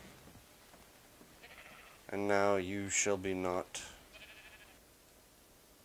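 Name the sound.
sheep bleating in video game ARK Survival Evolved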